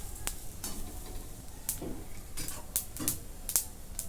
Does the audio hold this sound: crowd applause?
no